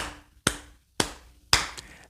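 Three sharp, separate hand claps ring out about half a second apart in a quiet room, slow and deliberate, each with a short decaying tail.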